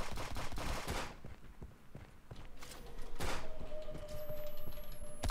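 Rapid automatic gunfire bursts from a shooter video game, loud and dense in repeated volleys, with brief gaps and a rising electronic whine near the end.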